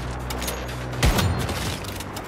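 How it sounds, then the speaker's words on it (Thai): An explosion in the video game Once Human: a single dull boom lands about a second in and decays into a rumbling tail over steady game ambience. "ระเบิดก็ไม่แรง"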